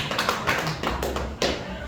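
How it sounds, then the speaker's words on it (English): Scattered claps from a small audience in a saloon comedy set: a handful of separate, uneven hand claps spaced out over two seconds, close and fairly loud, with some murmuring around them. "Some odd number of claps"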